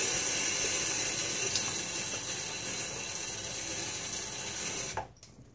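A bathroom tap runs in a steady close hiss and splash as the face is wetted before a shave, then cuts off near the end, leaving quiet with no talk.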